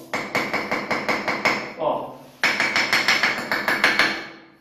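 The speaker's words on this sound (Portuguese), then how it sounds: "vou deixar a peça aqui no vinco onde eu fiz e vou bater aqui para vocês" A floor tile tapped with a hammer to test whether it is hollow, a rapid series of sharp, close knocks in two bursts with a short pause between, with faint talk.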